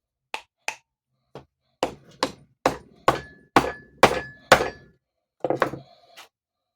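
A series of sharp hammer blows driving wood into a metal pipe, about a dozen strikes spaced roughly half a second apart, close and loud, with a brief pause near the end.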